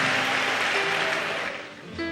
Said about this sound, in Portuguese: uma salva de palmas a Jesus e tome o seu assento